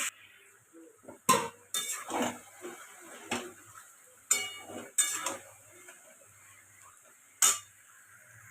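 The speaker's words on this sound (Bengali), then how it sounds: "মাংস অনেক সুন্দর কষতে থাকছি বন্ধুরা।" Marinated chicken being stir-fried in a pan, with sharp clinks and scrapes of a utensil against the metal coming in irregular bursts over a quiet background, with no talking.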